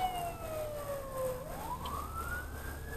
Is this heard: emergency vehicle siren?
yes